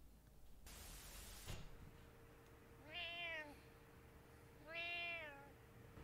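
A cat gives two drawn-out meows a couple of seconds apart, faint and slightly distant over a steady hiss and low hum, after a brief burst of static.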